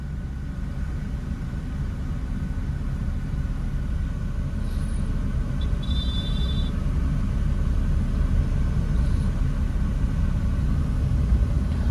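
A car's engine hums low and steady through a driving lesson, rising slightly as speed increases, with faint road rumble and a brief high chirp midway; no voices.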